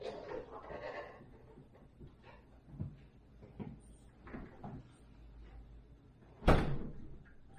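Quiet shuffling and handling noises lead up to a single solid thump of an LG refrigerator door swinging shut near the end, with faint murmuring earlier.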